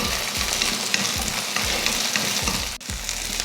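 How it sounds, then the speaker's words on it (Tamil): Shallots, garlic cloves and ginger pieces sauté in hot oil, giving a steady close sizzle with repeated soft scraping strokes of a stirring spoon and no voices. "இதில் ஒரு 10லேருந்து ஒரு 20 போல் சின்ன வெங்காயம், ஒரு 7-8 வெள்ளை பூண்டு, இந்த மாதிரி ஒரு 4 இஞ்சி துண்டு இதையும் வதக்கிடலாம்."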